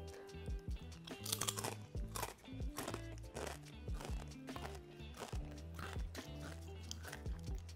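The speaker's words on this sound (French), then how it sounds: "Vous l'avez entendu au micro, c'est très croustillant." Faint, repeated crisp crunching of crispy fried pasta being bitten, coming in quick uneven bursts close to the microphone.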